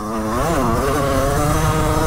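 A Derbi 50cc motorcycle ridden off-road, its small engine buzzing loud and close with a rising rev then a steady high-pitched drone, no voices over it.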